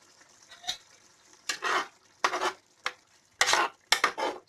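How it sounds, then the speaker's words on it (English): Fish cooking in a pot for okra soup, heard as a quiet bubbling base under several bursts of clattering and scraping from the pot. "my fish is cooking"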